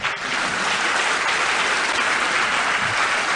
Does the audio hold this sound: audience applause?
yes